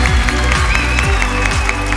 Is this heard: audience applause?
yes